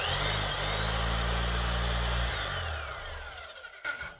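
A repaired power tool, one of several broken DeWalt, Metabo, Makita and Senco tools, runs with a loud, steady motor whine for about two seconds, then winds down and coasts to a stop, ending in a brief clatter.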